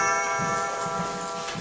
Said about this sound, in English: Your control panel has a chime feature to alert you when a door or window has been opened.